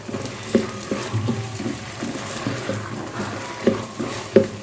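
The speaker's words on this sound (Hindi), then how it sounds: "यहाँ पे मैंने चावल को अच्छे से भून लिया है तेल में, आँच तेज़ करके" Rice with fenugreek is stirred and fried in oil over high heat, with a soft background sizzle and repeated scraping, knocking strokes of a spoon against the pot at an uneven rhythm.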